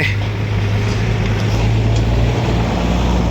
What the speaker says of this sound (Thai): เดี๋ยวรอให้รถไถดันเสร็จก่อน